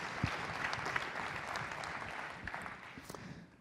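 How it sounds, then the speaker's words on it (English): Audience applause at a Startup Canada export pitch competition greets a finalist, a faint, steady wash of many hands clapping from a distance for several seconds. "Let's put our hands together for the much, quick-talking first finalist."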